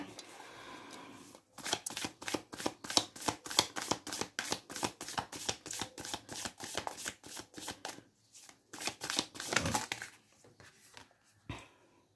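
A tarot deck is shuffled in quick runs of crisp riffling card flicks, one burst after another with a short pause near the middle, close and fairly quiet, with faint talk underneath.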